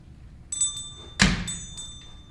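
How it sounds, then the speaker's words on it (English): A Foley bell for a drugstore door opening, performed live for a community theatre show: a bright jingle with a thud, then a louder ringing strike that fades, with no talk. "use a bell sound to represent the door opening to the drugstore"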